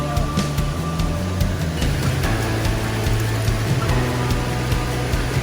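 Steady rain falls on a wooded hiking trail near the Asheville waterfalls, a dense, constant hiss of drops with a low rumble underneath, close and unbroken throughout.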